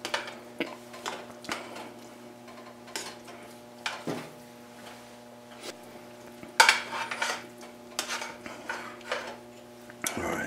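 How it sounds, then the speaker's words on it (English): A spoon clinks and scrapes around a pot of stewed chicken with tomato paste, breaking up the paste in irregular knocks and scrapes over a faint steady hum, close and without voices. "Give this a good stir."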